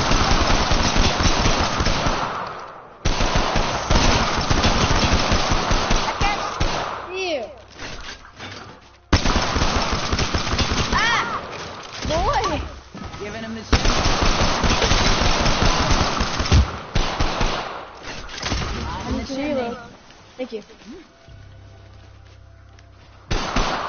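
Loud, rapid automatic gunfire from a shooter video game comes in long sustained bursts separated by short pauses, with players talking over it.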